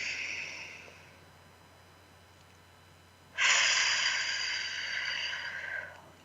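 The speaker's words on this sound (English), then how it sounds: "Take another breath." Someone draws a deep, slow breath during a guided relaxation, a soft airy inhale that fades, then a louder, closer breath swells after a quiet gap.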